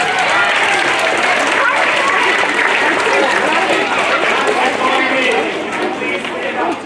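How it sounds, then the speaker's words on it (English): Loud, steady applause from a school assembly crowd for a student, thick continuous clapping that holds evenly for several seconds before easing slightly at the end. "A big applause please for Cash Russell"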